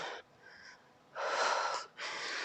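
Forceful breathing during a home abdominal workout: a short hard exhale, a quieter breath, then two long strong whooshing exhales, close and loud, with no talk.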